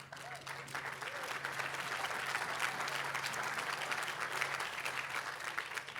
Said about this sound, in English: Yeah, that's worth applauding for a long time, isn't it?